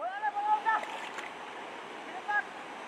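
A river in Sikkim rushes steadily in a broad, continuous wash of flowing water, with people calling and talking over it nearby.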